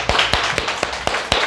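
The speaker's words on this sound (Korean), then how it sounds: "그러면 우리 박수로 한번 환영하겠습니다." A Korean church congregation at a Sunday worship service claps in unison to welcome a speaker. About six sharp, evenly spaced claps land roughly four times per second, close and loud.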